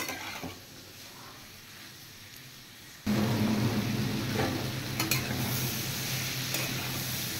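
Minced mutton with spices fries in a pan; a quiet hiss suddenly jumps to a loud, full sizzle with clinking spatula stirs against the pan.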